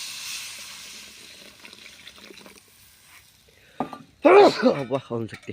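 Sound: pouring tamarind water into a cooking pot

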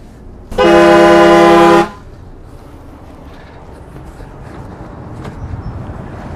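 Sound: motorhome air horn honking

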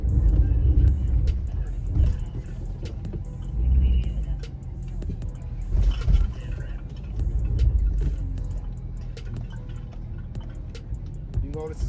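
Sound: Porsche driving over moguls test bumps

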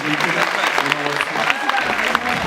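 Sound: audience applause

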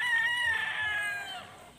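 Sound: chickens and rooster crowing

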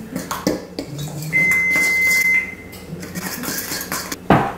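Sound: mixing batter in a bowl with a fork

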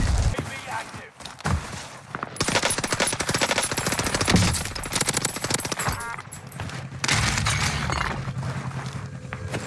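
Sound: MP40 gunfire in the video game Warzone

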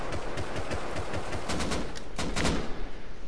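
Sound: gunfire from an enemy in the video game Rust

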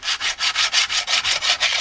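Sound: power tool removing casting ridge from a motorcycle wheel

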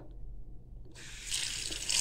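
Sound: water running from a tap into a bucket

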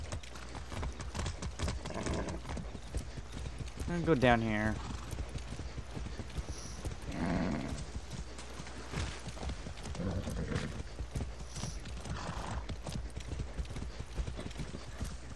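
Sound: horse hooves clip-clopping in the video game Far Cry 6

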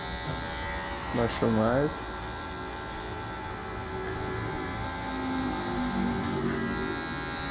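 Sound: electric hair clipper cutting hair

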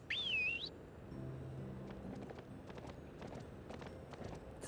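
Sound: horse galloping after whistle in Barbie video game

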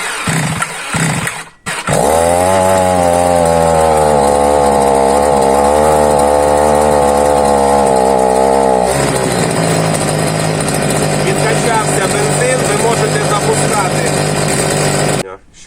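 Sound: Procraft T4200EL petrol grass trimmer engine running, electric start

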